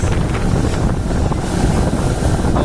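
Strong northeast monsoon wind roars steadily across open sea, a constant gusty rush with no voices.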